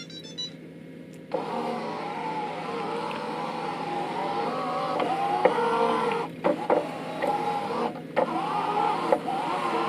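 A steady, fairly quiet motorized whir of an Everybot Edge robot wet-mop cleaner starts after a second and runs on, with small bumps and clicks as it moves across the floor.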